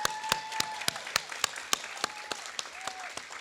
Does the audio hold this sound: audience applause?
yes